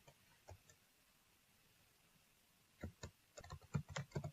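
Keyboard typing while logging in to a virtual machine appliance console as a maintenance user: a few isolated keystrokes early, a pause, then a quicker burst of close clicks, fairly quiet.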